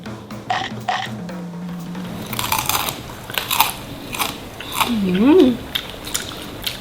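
Crispy fried egg with seafood being bitten and chewed, giving crunchy bites close to the mic. Talk runs through much of it.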